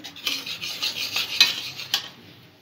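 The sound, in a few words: stirring to dissolve lumps in fruit salad dressing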